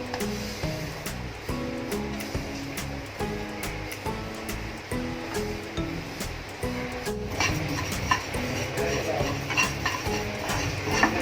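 Niger seeds being dry-roasted and stirred in a pan make continuous scraping and light rattling at close range, dotted with sharp ticks of the utensil against the pan, while background music plays underneath.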